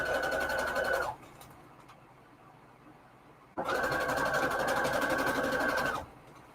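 A sewing machine runs a straight stitch at length 4 on Christmas string quilt fabric, two steady loud whirring runs of about a second and two and a half seconds, separated by a quiet pause.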